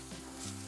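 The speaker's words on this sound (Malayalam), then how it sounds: "ഇനി മുളക് പൊടി ഒന്ന് മൂക്കട്ടെ" Chili powder fries in hot oil for a Kerala-style beef ularthiyathu curry, giving a brief, soft, steady sizzle heard alone.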